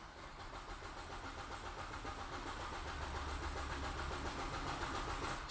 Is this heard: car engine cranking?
yes